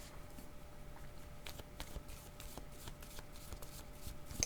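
Tarot cards being shuffled by hand before one is drawn, a soft continuous papery riffle and patter lasting several seconds, close but quiet with no speech.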